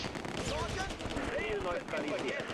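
Sustained rifle and machine-gun fire from a Close Combat II battle at the Groesbeek landing zone near Arnhem, a steady crackle of shots layered with game ambience throughout.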